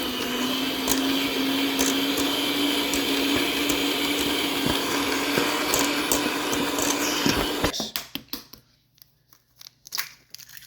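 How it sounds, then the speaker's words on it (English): An electric mixer creams butter for milk chocolate chip cookies with a steady, loud whirring drone that cuts off near the end, followed by scattered clinks and scraping. "the next thing I have to do is I have to cream the butter together"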